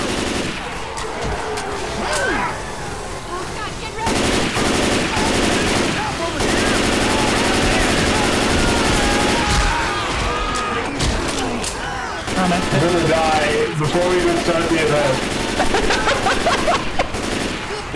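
Dense automatic gunfire in the zombie shooter Left 4 Dead 2, with sustained rapid bursts that pause briefly and then resume, loud and continuous throughout, with players talking over it at times.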